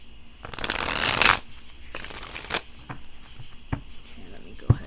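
A deck of tarot cards is riffled and shuffled up close, with a loud fluttering burst followed by a shorter second riffle and then soft taps as the deck is cut.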